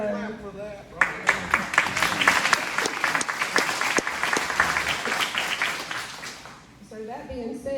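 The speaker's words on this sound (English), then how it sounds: "Can we clap for that?" Attendees at a county residents meeting in Sandy Ridge break into a burst of applause, clapping rising sharply after a spoken lead-in and tapering off into talk again at the end.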